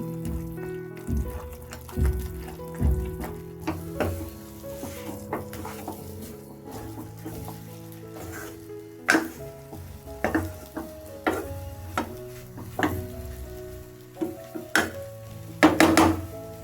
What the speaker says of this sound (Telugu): మంట సిమ్లోనే పెట్టుకొని రాగిపిండి అంతా బాగా కలుపుకోవాలి